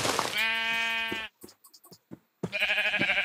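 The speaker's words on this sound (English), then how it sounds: "Is this a sheep or is this like a ram?" A video-game sheep lets out two loud, close bleats, each a long wavering buzzy cry, separated by a short pause filled with faint clicks.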